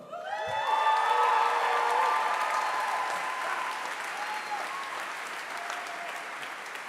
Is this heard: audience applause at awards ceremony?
yes